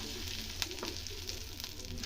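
Cumin seeds, small cardamom and asafoetida sizzling in hot oil for a Bengali cabbage dish, a soft steady fizz with faint crackles and no talking.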